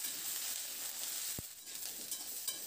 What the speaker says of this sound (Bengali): এবার হাই টু মিডিয়াম ফ্লেমে নাড়াচাড়া করে সবজিগুলোকে একটু ভেজে নেব।